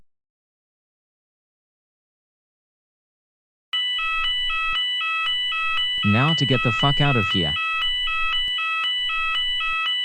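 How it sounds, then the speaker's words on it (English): School fire alarm starts suddenly after silence and rings loudly and continuously in a pulsing electronic pattern, with a voice speaking over it for a moment. "The fire alarm is indeed going off."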